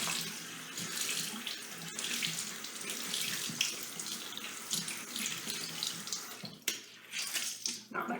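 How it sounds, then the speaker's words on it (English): Tap water runs steadily into a sink to wet a washcloth, a continuous close splash that shifts slightly as the cloth moves under the stream, with no talking. "Let me wet down my washcloth first."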